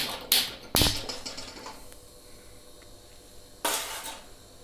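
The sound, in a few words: kadai pan being set on the stove to heat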